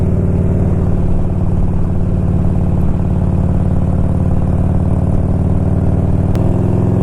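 A Harley-Davidson Road King motorcycle, freshly carb-tuned, runs with a steady loud low rumble, the engine note holding even throughout with a slight shift near the end.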